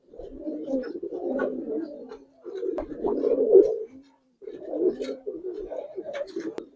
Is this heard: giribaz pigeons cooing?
yes